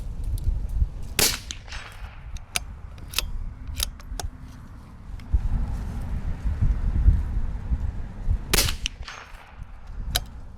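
Shots from a CZ 457 Varmint bolt-action rifle ringing steel targets outdoors: a handful of sharp, loud cracks spaced several seconds apart, over steady wind and low rumble, with no talking.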